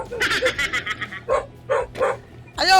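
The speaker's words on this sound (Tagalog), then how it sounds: "Matindi ang trip ng asong ito." A dog by a pool barks close and loud at night in a quick series of sharp yipping barks, with a brief whimpering whine at the end.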